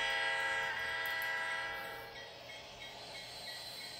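A train horn blares in the Rails Unlimited game on the remaster map, a loud sustained harmonic tone with rail rumble beneath that fades somewhat partway through.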